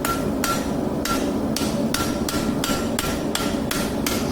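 Red-hot metal struck with a hammer on an anvil, nine evenly spaced ringing blows at a steady rhythm, close and distinct with a clear metallic ping on each hit, no voices.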